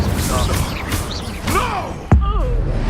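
Incendio fire spell cast in Hogwarts Legacy, a whooshing burst and sharp impact thud mid-clip amid game combat effects, with creature or character voices shrieking and calling around it.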